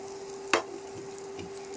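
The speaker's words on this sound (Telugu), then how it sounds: "ఆయిల్ హీట్ ఎక్కిన తర్వాత ఇప్పుడు ఇవన్నీ కూడా వేసేద్దాం." Mustard seeds, cumin, dried red chillies, curry leaves and crushed garlic hit hot oil for tempering, giving one sharp crackle followed by a faint, steady sizzle and a low hum.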